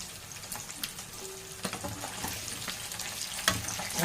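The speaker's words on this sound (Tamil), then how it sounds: "இப்போ நான் குழம்பு தாளிக்க வேண்டியதுதான்." Fish curry masala hits hot oil for tempering, giving a soft continuous sizzle and crackle with scattered pops and stirring clinks, fairly quiet and close with no talking.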